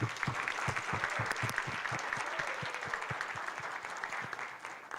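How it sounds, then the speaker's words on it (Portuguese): A room full of people at a union meeting clap together in a dense, sustained round of applause that carries on for several seconds and gradually thins out near the end. "uma salva de palmas para todos nós que estivemos aqui presentes"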